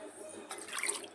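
Water, about two glasses, is poured into a cooking pot for a traditional Tamil mudavattu kizhangu root soup, making a faint, brief splashing rush that begins halfway through and lasts about a second.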